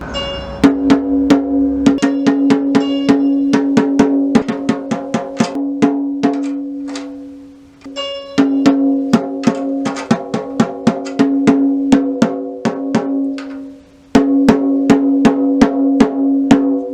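A tom drum is struck over and over in steady bursts of taps, its ringing pitch shifting between groups as the resonant head is tuned up in half steps, with short pauses between runs.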